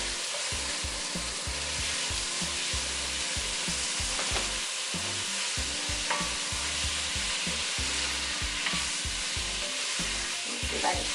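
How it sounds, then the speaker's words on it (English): Butter-coated vegetables seasoned with salt, pepper, rosemary, thyme and garlic sauté for chicken noodle soup, giving a steady sizzle and crackle throughout with a rhythmic low thumping beneath, no talk. "So we're just letting that saute, right?"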